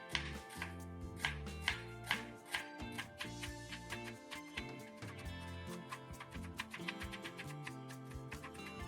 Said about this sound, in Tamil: நீள் வாக்கில் நம்ம இந்த வெங்காயத்தை நம்ம அரிஞ்சுக்கலாம்.